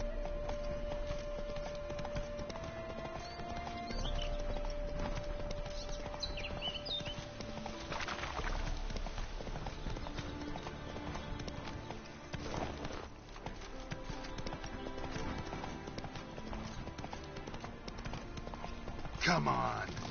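Roach the horse's hooves clip-clopping in The Witcher 3: Hearts of Stone, a steady walking rhythm under game music and ambience throughout.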